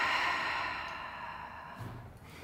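A calm, slow exhale during a beginner yoga breathing exercise, soft and close, fading out gradually, followed by a faint rustle and small click.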